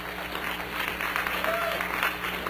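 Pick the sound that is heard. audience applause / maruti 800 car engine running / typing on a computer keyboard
audience applause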